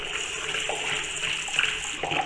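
White alcohol vinegar is poured into a mixture, a steady close stream of liquid splashing and swirling in a container for a couple of seconds, alone without talk.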